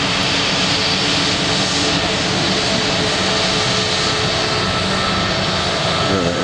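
A British Airways jet at Manchester Airport gives off a loud, steady engine roar with a whining hum, constant throughout and close by, with no talk.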